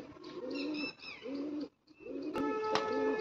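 A pigeon coos in repeated low, rolling phrases, close and clear, with a brief pause midway and a few higher chirps in between.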